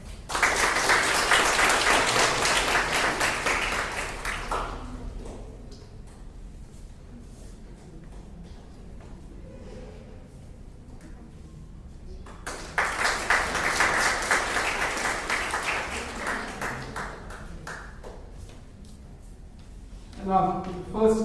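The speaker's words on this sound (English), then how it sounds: "Please clap." An audience at a school English declamation contest applauds in two loud bursts of many hands clapping, with a quieter stretch of announcer talk between them and a short clap at the end.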